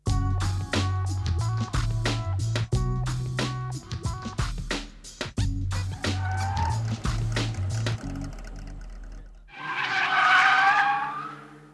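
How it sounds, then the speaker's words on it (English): A car skidding around a wet skid-control course at the Silverstone race school, engine revving in pulses with gear changes, then a long, loud tire squeal as the car slides near the end. "The car slides at every opportunity and it gets them used to having the car slide underneath them."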